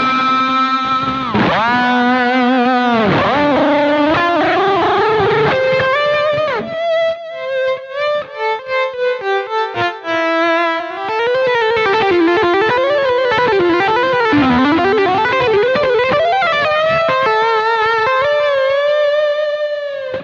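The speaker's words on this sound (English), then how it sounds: "Patch 2 is a lead tone that complements that kind of riff" Smooth lead guitar through a BOSS GX-100 custom patch with distortion and chorus, a sustained melodic line of bends and held notes with light reverb, played alone and loud for the whole stretch.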